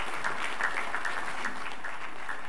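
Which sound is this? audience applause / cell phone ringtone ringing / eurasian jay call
audience applause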